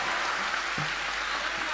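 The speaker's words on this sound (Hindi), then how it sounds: "जोरदार जोरदार जोरदार तालियां हरदा" A big crowd claps steadily at a live Bhagwat Katha gathering in Harda, a sustained, fairly even roar of hands heard from a distance with a faint low thump partway through.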